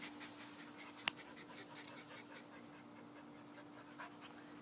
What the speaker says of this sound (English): this has been a video of my new dog, Dixie, going out with a touchdown.